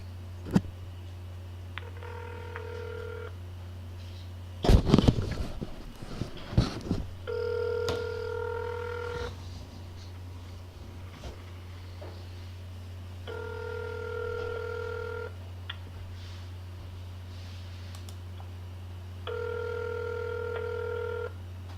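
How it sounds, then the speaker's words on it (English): A phone call is placed: a short burst of dialing and handling noise, then four evenly spaced ringback tones over a steady low line hum. "it is 11:09 a.m., February 9th, 2014, calling Jack Considine, the City Council member from Ward 5 of Mankato, Minnesota."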